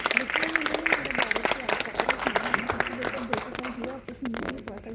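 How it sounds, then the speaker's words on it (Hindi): Audience applause at a Hindi comedy and poetry stage show, dense clapping under a loud speaking voice throughout. "तमाम साहित्यिक और बड़े कलाकारों के जोरदार ताली हो जाए एक बार"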